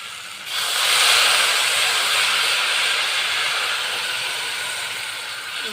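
Water poured into a hot kadai of spice paste raises a sudden loud burst of steaming hiss that holds steady and slowly fades, with no talking.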